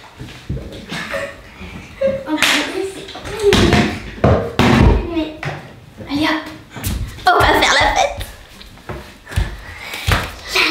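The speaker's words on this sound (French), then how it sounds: "Ciao, je ferme la porte." A bathroom door shuts with a few knocking thumps, heard amid loud, lively family chatter and goodnights between several people.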